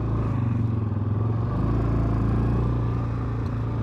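An Access Shade 850 Xtreme quad runs while being ridden, its engine a loud, close, steady low rumble with a throbbing pulse and slight clatter, holding an even pace throughout.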